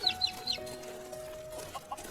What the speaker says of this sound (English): Look at the mama duck and the baby ducks following her.